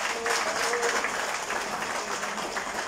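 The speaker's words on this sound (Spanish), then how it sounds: "Un aplauso para él." Steady applause from a crowd at a political party committee swearing-in ceremony in Izúcar de Matamoros, continuous clapping filling the whole stretch at a moderate distance.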